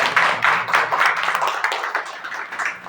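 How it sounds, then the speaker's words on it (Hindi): Crowd clapping at a May Day labour rally, a dense burst of many hands striking in quick uneven bursts, loud and close, continuing throughout without talk. "जोरदार तालियां बजाओ।"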